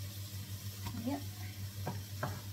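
Fried rice is stirred in a hot pan, with a few scraping strokes of a utensil over a low sizzle and a steady hum, close by and fairly quiet.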